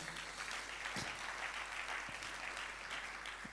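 Church congregation applauding together during a service, a steady wash of clapping throughout with a few sharper claps standing out near the front.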